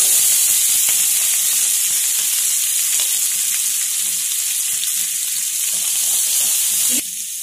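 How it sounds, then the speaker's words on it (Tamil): Curry leaves, green chillies and onion frying in hot oil give a loud, dense, continuous sizzle with faint crackles, easing slightly right at the end. "கறிவேப்பிலை பச்சை மிளகா போடுறேன். வெங்காயம் போட்டுக்கலாம்."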